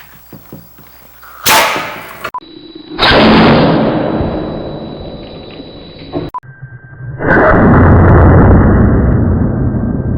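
Pumped water gushes hard from a pipe into a fish tank in an aquaponic greenhouse, arriving in loud, steady bursts of rushing, splashing flow separated by brief pauses.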